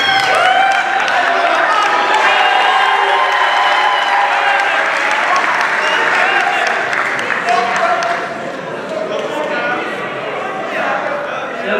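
An audience at a university gathering in Kongo Central applauds loudly and continuously, with some cheering in the mix and a slight easing toward the end.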